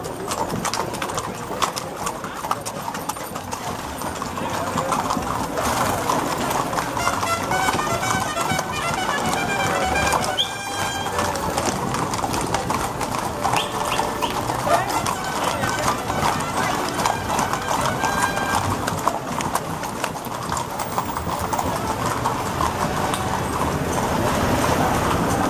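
Many horses clip-clop along a paved avenue in a street horse parade, hooves clattering continuously and close, with occasional whinnies and crowd voices in the background.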